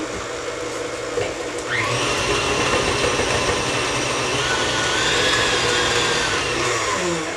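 An electric mixer churns butter and sugar for chocolate chip cookie dough, starting with a lower hum and then rising into a steady, loud whir that runs continuously to the end, with no talking over it.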